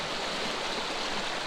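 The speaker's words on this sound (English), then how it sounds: "The river gets quite rough, so you can probably hear it." A rough, rapid river swollen by floodwater rushes in a dense, steady roar of broadband noise, close and continuous without any voices.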